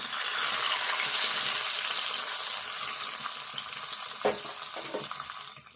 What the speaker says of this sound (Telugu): ఇప్పుడు ఈ తాలింపు ఈ పప్పులో వేసుకుందాము